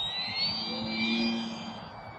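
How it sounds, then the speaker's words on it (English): An XFLY Tasman RC jet airplane flies past with a steady, high-pitched whining engine tone that holds loud and continuous, without any voices. "Might not be the most beautiful RC airplane, but just judging by how this one flies, I think it's a great RC airplane."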